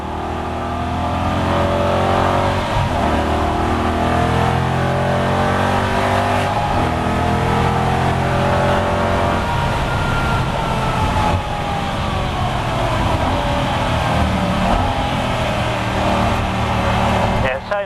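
An Aston Martin V8 Vantage GT4 race car's engine heard from inside the cabin on track, a loud continuous drone that climbs and falls in pitch through gear changes, with a voice talking over it.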